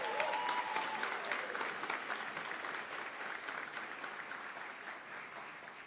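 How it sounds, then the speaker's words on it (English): Sustained audience applause at a university rector's installation ceremony, a dense steady wash of many hands clapping that fades slightly toward the end, with no talk over it. "I think they deserve another round of applause."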